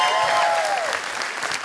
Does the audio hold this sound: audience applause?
yes